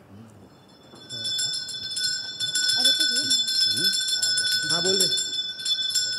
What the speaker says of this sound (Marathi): हे 3री घंटा दे रे